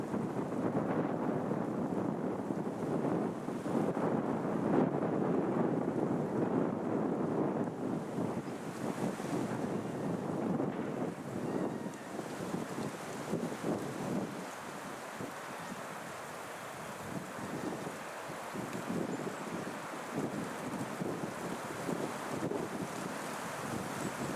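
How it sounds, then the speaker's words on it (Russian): Strong, steady wind roars and buffets the microphone throughout, with a broad low rumble and occasional gusts, on a mountain road in Beloretsky District, Bashkortostan. "Ветер сильный"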